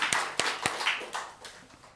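A small church congregation claps briefly during a Sunday worship service, with a handful of sharp, separate hand claps in an uneven rhythm that are fairly faint and fade within two seconds.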